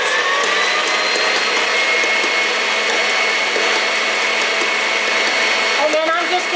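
An electric mixer beating angel food cake batter as it is added by the spoonful, a loud continuous motor whine that holds steady throughout, close up.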